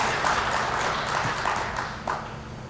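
An audience applauds during a Friday morning conference session, with a steady, dense wash of many hands clapping at moderate volume that slowly thins toward the end.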